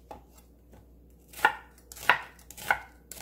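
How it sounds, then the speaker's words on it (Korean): A knife cuts squid on a cutting board: a few soft taps followed by three firm, evenly spaced chops close up, with no voices. "이렇게 오징어 썰어서 준비해주세요"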